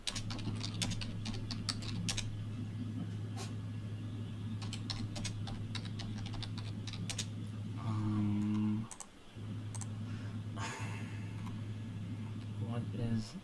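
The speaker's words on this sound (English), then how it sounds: "I'm trying to type over here." Typing on a computer keyboard, rapid bursts of light key clicks over a steady low hum, with people talking nearby at times.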